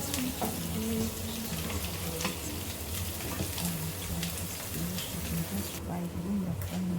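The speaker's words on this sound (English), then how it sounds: "Now I'm about to fry it down." Soft, steady sizzling of sand fish frying in a pan, faint and close, with a continuous crackle under a quiet background.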